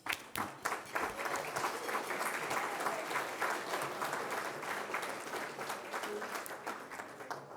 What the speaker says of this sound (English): So let me just give them a round of applause.